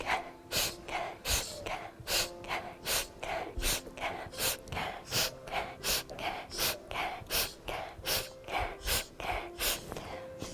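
Repeated deep, forceful breaths through the nose during a breathing exercise, each inhale a sharp, loud rush of air in a steady rhythm, about twenty in a row, close and alone without talk.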